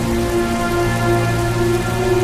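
Heavy rain pouring steadily and loudly, a dense unbroken hiss of drops on surfaces with a faint low hum beneath and nothing else standing out.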